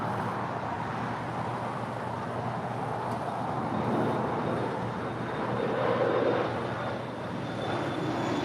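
A Boeing 777-300ER arriving from Tokyo Haneda lands at LAX, a continuous, broad jet roar that swells slightly and then eases, heard from a distance with no voices.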